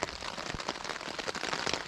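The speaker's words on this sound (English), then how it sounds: "It's chucking it down near the end." Heavy rain pours onto a tent at a campsite on the West Highland Way, making a dense, loud patter with crackling drops close by and no talk.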